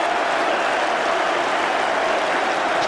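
A cricket crowd at The Oval during the 2005 Ashes Test applauds and cheers Flintoff taking Shane Warne's wicket, a sustained, broad wash of clapping from a large stadium with no voices over it.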